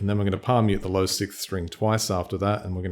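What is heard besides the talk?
No everyday noises stand out.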